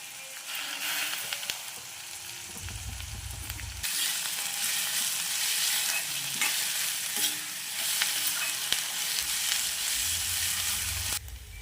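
Curry leaves, onions and green chilies fry in hot oil for plain upma, giving a steady sizzle with bursts of spatter and a few stirring scrapes. The sound stays fairly close and continuous throughout, with no voices.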